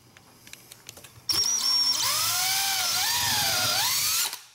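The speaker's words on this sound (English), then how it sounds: "I'm going to drill my hole right here, and I've got a backer of wood to give me support that I can drill into." A power drill bores a 7/32 inch hole into a piece backed by a wooden board, a few light clicks followed by a sudden loud whine that rises and wavers in pitch for several seconds, then stops abruptly.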